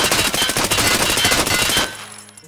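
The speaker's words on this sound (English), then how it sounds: "Let's see what the VSS recoil is like. First, we'll do it no control full auto." Full-auto fire from a VSS suppressed rifle on a firing range in the game Escape from Tarkov, a loud rapid burst of closely spaced shots that stops abruptly, followed by brief mechanical clicks.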